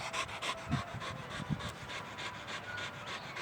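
A wet, muddy dog back from a dirty salty lake in Cape Town pants rapidly and steadily close by, quick rhythmic breaths with a few snorting puffs, no talking.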